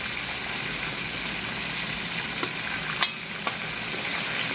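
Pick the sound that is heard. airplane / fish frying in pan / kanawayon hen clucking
fish frying in pan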